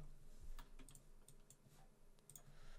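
Keys on a computer keyboard are typed in short bursts of light, quiet clicks with brief pauses, close and alone, while text is entered in Adobe Illustrator CC.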